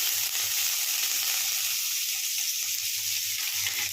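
Grated ginger and whole spices such as cardamom, cinnamon, cloves, five-spice and dried chilli frying in mustard oil, a continuous even hiss with soft low bubbling beneath, close and without talk.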